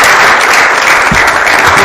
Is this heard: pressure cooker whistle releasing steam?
no